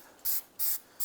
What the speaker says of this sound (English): Now with everything off, we can go ahead and use a cleaner.